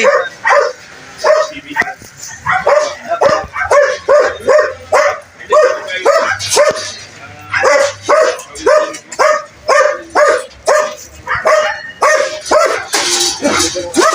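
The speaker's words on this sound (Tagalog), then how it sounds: "Ingay ng aso mo, oh." A dog barks rapidly and repeatedly, loud and close, in a long insistent series with occasional yips; voices murmur in the background at a neighborhood fiesta gathering.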